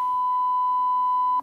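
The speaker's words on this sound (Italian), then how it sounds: "Metto il beep." A censor beep sound effect plays as a single loud, pure steady tone held for over a second before cutting off abruptly.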